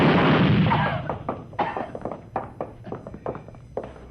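Gunfire sound effect in a 1951 radio detective drama: a loud opening burst followed by a quick string of sharp, uneven shots that fade in strength, with no talk over them.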